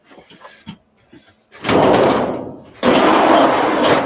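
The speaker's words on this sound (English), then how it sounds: "Close that door again." An indoor door closes twice in a row, each a loud broadband thump, the first after a stretch of faint rustling and scattered knocks, the second a short pause later.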